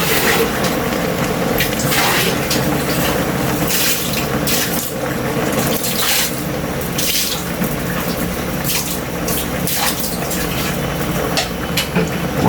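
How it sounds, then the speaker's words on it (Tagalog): Coconut milk pours into fish simmering in a pot for a Filipino ginataang tulingan dish, a continuous liquid splashing and trickling with clattery bursts, close and steady throughout. "Lagyan natin yung gata natin kay Lee."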